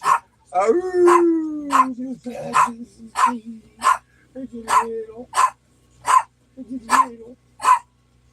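A dog barks repeatedly in a steady rhythm, close and loud, with some drawn-out howling yelps mixed in between the sharp barks.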